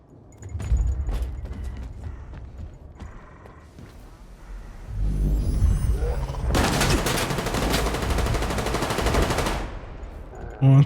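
Bursts of gunfire crack through a S.T.A.L.K.E.R. 2 firefight, with scattered shots giving way to a dense, loud automatic volley that stretches over several seconds, alongside mechanical clatter.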